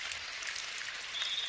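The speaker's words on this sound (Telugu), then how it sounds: "ఇదంతా వాన." Cartoon rain in a Doraemon episode falls as a faint, steady hiss of drops, with a thin high tone rising briefly near the end and no speech.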